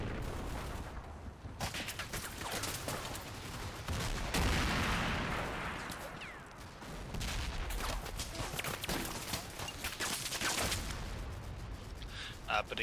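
Mortar rounds and gunfire thud against a hillside in a war game, a dense, steady barrage of distant bursts and rattling shots running throughout, with a voice talking over the top.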